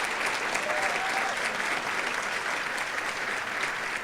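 A crowd at a breakfast event gives a warm, sustained round of applause for Keena Turner: dense, even clapping from many hands filling the room without a break.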